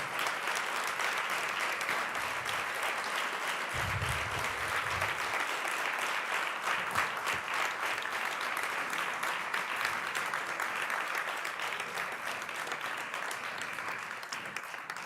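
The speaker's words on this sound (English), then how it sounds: "I think you have to receive the biggest applause." Sustained applause from a conference audience at a digital citizenship event, honouring volunteers in purple t-shirts, a broad, even wash of many hands clapping that continues steadily for about fifteen seconds with faint voices underneath.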